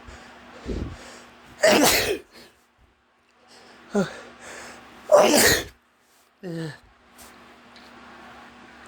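A person sneezing twice, loud and close, each sneeze preceded by sharp inhaled gasps and followed by sniffs and breathy sounds in a quiet room.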